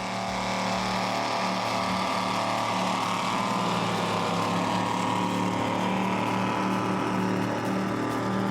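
A 39 Top Gun racing powerboat with Mercury Racing 700 engines runs in a steady, loud, deep rumbling drone with no break across the clip.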